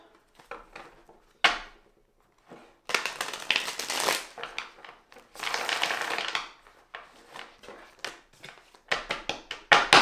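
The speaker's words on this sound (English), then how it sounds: "one more shuffle" Light Seers Tarot cards shuffled by hand, a run of crisp riffling and papery shuffles in several bursts, close and fairly loud, with soft taps and slides between them and no talking.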